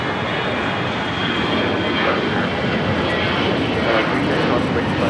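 A Delta Airlines A321 jet takes off from LAX, bound for Detroit, its engines giving a loud, steady broadband roar that holds throughout without pause.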